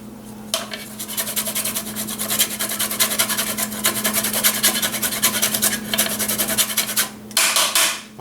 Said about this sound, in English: I'm going to take a little bit of zest off this lemon